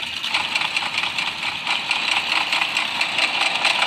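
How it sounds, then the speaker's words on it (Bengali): A motorbike engine in GTA V rumbles steadily and close, with a continuous rattling buzz and no pauses. "বাইকের ডকডক করতেছে ভাই।"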